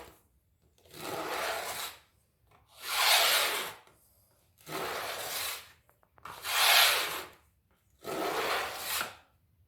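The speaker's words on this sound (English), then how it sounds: "we strop with the bevel flat on the moderately tangent strop and downward pressure on the blade enough to curve the strop" A knife blade is stropped on a Henning strop with no compound, giving five soft, even rubbing strokes in a slow regular rhythm, each separated by near silence.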